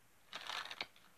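A brief riffle of cards being shuffled, a quick papery burst lasting under a second, close and quiet.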